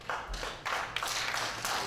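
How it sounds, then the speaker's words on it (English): Wrestling audience at an IZW show applauding, a short burst of scattered claps with uneven rhythm rising and falling over a couple of seconds, fairly close and without speech. "Yes, you can applaud"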